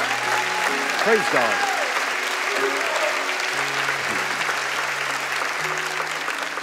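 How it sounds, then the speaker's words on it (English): A church congregation applauds steadily through the whole stretch, with a voice speaking over the clapping and a brief sung or drawn-out vocal tone near the start. "You want to clap? Go ahead, please."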